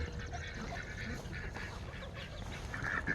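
Ducks quacking outdoors on an Easter morning, a few soft scattered calls over a faint background hiss, fairly distant and quiet.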